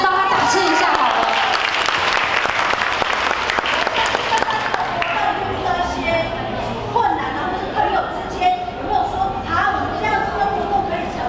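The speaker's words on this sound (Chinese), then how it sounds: "给他一点掌声，帮他打气一下好了。" An audience at an award ceremony breaks into loud, dense applause that gradually thins into scattered clapping, with murmuring voices underneath.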